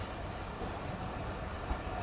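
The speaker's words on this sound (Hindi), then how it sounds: "ट्रेन हमारे डिपार्ट कर रही है भावलपुर रेलवे स्टेशन से।" The Karakoram Express train pulls out of Bahawalpur railway station with a steady low rumble of wheels and carriages and a single faint click, heard from on board with no talking.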